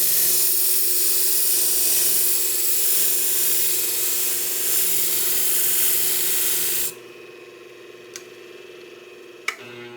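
Left-handed beauty shears being sharpened and polished on a machine, a steady loud whir for several seconds that cuts off abruptly, followed by quiet with a couple of small clicks.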